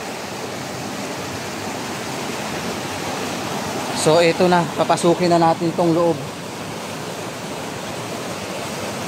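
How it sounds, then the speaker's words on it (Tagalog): A forest stream rushes and hisses as a broad, constant wash of water throughout, while someone speaks briefly over it in the middle. "Makaabutan tayo dito ng ragasaan ng tubig ah"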